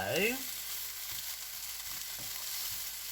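Onion fries in a pan with a steady, close sizzle. A brief scrape of a utensil at the start gives way to continuous frying, and no voices are heard.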